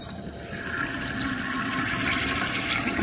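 Water being forced out of an apparatus during a gas laws lab demonstration, a steady rushing, splashing flow lasting a few seconds at moderate loudness with no talking.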